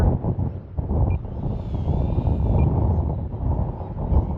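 Gusty wind buffets the microphone outdoors on a windy day at a model airplane flying field, a loud, continuous low rumble that rises and falls, with a faint high engine whine passing briefly in the distance.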